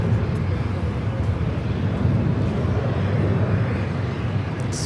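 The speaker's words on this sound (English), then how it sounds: "KLM flight 602, the flight heading back to Amsterdam, taking off there on the north side." A KLM airliner bound for Amsterdam takes off from the north side of LAX, producing a loud, continuous broadband jet roar that holds steady throughout with no let-up.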